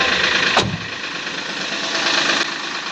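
Mahindra Bolero BS6 engine idling with a steady, smooth mechanical hum and broadband noise, one brief sharp transient early on, running continuously and close with no speech.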